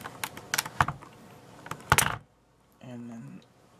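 Plastic keycaps pried off a keyboard with a keycap puller, giving several sharp close clicks and snaps in an uneven burst, followed by a pause and a softer hum.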